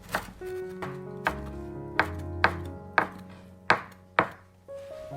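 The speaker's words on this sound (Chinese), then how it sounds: "把香椿切成香椿末， 像这样切得碎一点。" A knife finely chops Chinese toon leaves on a cutting board, about eight distinct sharp knocks at an uneven, unhurried pace, close and clear with no voices.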